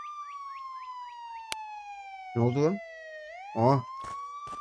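A wailing electronic police car siren in a video game, with fast warbling yelps, then a steady wail, loud and close, as short bursts of talk break in twice.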